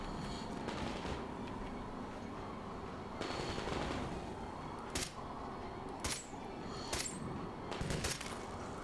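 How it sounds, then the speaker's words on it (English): Bursts of gunfire in the first-person shooter Metro Exodus, several sharp cracks over a busy, dense background of game ambience, fairly distant and moderate in level. "I think they're shooting at Anna."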